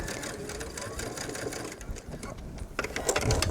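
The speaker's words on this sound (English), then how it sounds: "I'm stitching about 1/8 of an inch so on the facing, and I'm pushing the seam allowance towards the facing." Sewing machine stitches close to the seam on a V-neckline facing, pushing the seam allowance toward the facing; a steady, fairly loud whirring run continues throughout, with brief slowdowns and some faint handling noise.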